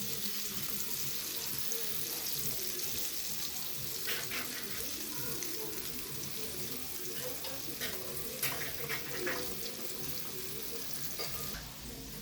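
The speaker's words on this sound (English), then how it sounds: "everyone's fish is frying" Steady, loud sizzling of fish frying in hot oil fills the whole stretch, with occasional crackles and pops on top.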